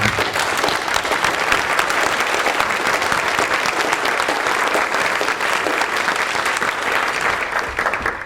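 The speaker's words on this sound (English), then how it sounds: "Please join me for the applause" Dinner audience at an opening symposium event applauding steadily, a dense, sustained wash of clapping at even loudness throughout, with no voices over it.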